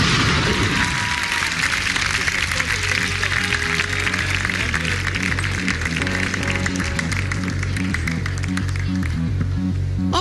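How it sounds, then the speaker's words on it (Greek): A loud, dense wash of applause from a TV studio audience on a Greek lifestyle show, steady throughout, with a musical backing beneath it. "κοντά μου με ένα δυνατό χειροκρότημα"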